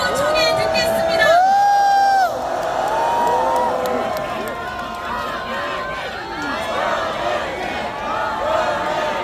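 A large crowd at a candlelight rally on the steps of the National Assembly claps and cheers for a party leader, a sustained roar of shouts, whoops and scattered clapping, loud and spread wide.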